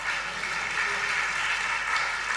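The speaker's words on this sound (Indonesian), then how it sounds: "Beri tepuk tangan bagi dia." A church congregation applauds steadily for a couple of seconds, a dense, even patter of many hands clapping together, with no voices over it.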